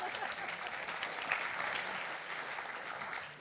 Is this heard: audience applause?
yes